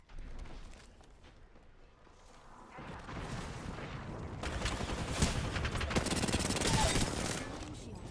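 Rapid gunfire from Apex Legends in a dense burst, growing louder and busier midway through with sustained automatic fire, booms and mechanical clatter layered together.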